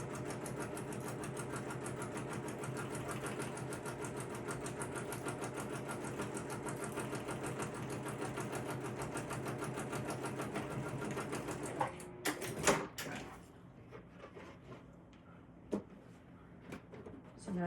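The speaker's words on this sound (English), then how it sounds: "now we're just gonna stitch across the top" A sewing machine top stitches across the top of a waxed canvas crossbody bag, running steadily for about twelve seconds before stopping, followed by a few handling knocks; close and moderately loud.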